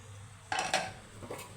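A lid lifts off a cooking pot of steamed sorghum dhokla with a couple of quick metallic clinks and scrapes, close by, then quiet.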